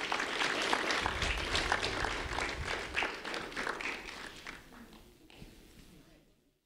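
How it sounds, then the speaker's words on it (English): Applause from an assembled audience honoring Elias Harden, a 10th grade student at Lehigh Senior High School, at a Do the Right Thing recognition event; steady moderate clapping that fades out near the end. "Elias Harden, a round of applause."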